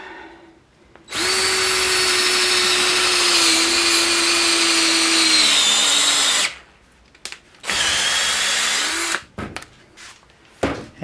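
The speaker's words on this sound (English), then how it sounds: "I'll drill and clean out the other holes" A power drill whines loudly at a steady pitch, dipping slightly as it bites into rubber while drilling holes, stops, then runs again in shorter bursts.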